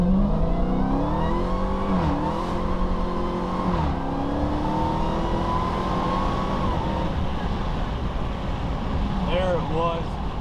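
A Dodge Challenger Hellcat Redeye surges away under launch control, its engine rising loud and close with several gear-change dips in the sustained roar, while a person talks over it.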